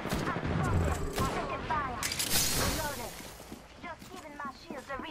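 Video game gunfire, bursts of rapid shots under overlapping game voices, strongest at the start and mid-clip, then lighter scattered shots toward the end.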